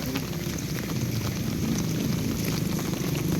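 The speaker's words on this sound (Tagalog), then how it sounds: "lumalakas yung ulan" Heavy rain pours steadily, a dense hiss of drops drumming on surfaces, with a low rumble underneath.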